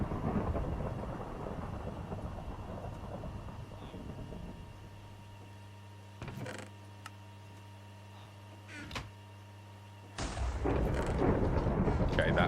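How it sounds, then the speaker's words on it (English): Thunder in Minecraft GregTech New Horizons: a deep rumble fades out over a steady low hum, brief sharp pops follow, then a loud broadband crash bursts in near the end. "Honestly, the GTNH Thunder."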